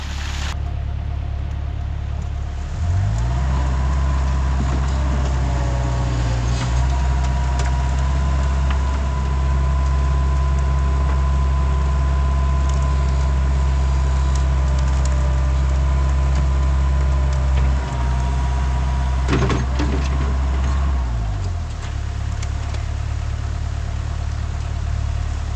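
Gold wash plant running heavy under a fresh scoop of material, a deep steady engine drone with a rising mechanical whine, loud and continuous for over twenty seconds before winding down, no talk.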